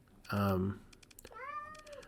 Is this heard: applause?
no